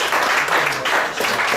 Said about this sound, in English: Let's clap it up for Jaleek Holden.